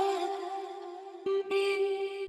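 Unprocessed vocal sample from a Neo Soul and Trap sample pack, a sustained sung tone holding steady with a brief dropout and re-entry near the end, clear and dry with no effects.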